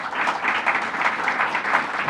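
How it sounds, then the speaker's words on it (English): Steady applause from an audience at a public housing-investment announcement with the New York governor, a continuous wash of clapping hands lasting about two seconds with no pauses. "let's give him a round of applause as well."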